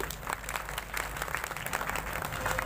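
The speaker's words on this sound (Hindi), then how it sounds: "एक बार अपने लिए निपॉन के लिए और माइक पेंट के लिए जोरदार तालियां।" An audience claps at a Nippon Paint event, with continuous applause of many hands keeping a steady crackling patter and a faint crowd murmur underneath.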